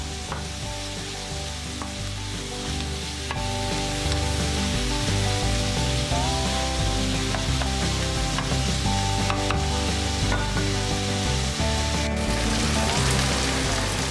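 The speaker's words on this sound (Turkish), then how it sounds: "Daha sonra buzluk sebzesini ilave edelim. Karışık buzluk sebzesi. Onları da kavuralım." Mixed frozen vegetables and mushrooms sauté in a hot pan with a steady, close sizzle and occasional stirring, running throughout under background music.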